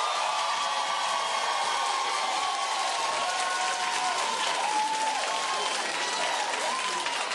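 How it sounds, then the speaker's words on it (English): A studio audience at a daytime talk show bursts into sustained, loud clapping that fills the whole stretch at a steady level, with no gaps or talk standing out above it. "Clap if you say don't do the story."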